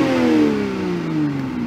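The 3.0 engine of a 2020 Toyota Supra Premium is heard loud and close, with a sustained engine tone gliding steadily downward as the revs fall off, with no talking.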